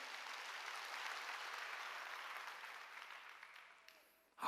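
A church congregation claps together during a sermon, a dense, faint wash of hands that slowly thins and fades before a brief louder sound at the end.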